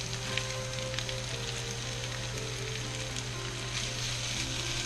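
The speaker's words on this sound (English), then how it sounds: "you're going to cook these onions until they're soft" Onions fry steadily in a hot pan, a continuous close sizzle with faint crackles and a low steady hum underneath, no voices.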